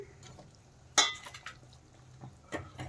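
Fried katla fish pieces drop into a pot of boiling curry with a sharp splash and clatter, followed by softer bubbling and a few light knocks of a utensil against the pot.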